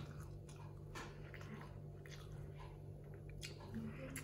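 Crispy, crunchy fried chicken Manchurian in gravy is bitten and chewed close by, the soft crunches faint over a steady low hum, with no talking.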